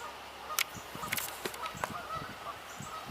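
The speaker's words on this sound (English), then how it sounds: "Okay, I'm hearing Canada geese. They sound like they're on the other side of the berm there." Canada geese honking from somewhere off beyond a berm outdoors, several scattered nasal honks over a few seconds, distant and fairly faint above low ambient noise.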